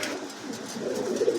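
A blue and a black King pigeon coo softly, with low throaty burbles that build toward the end, close and fairly loud and free of talk.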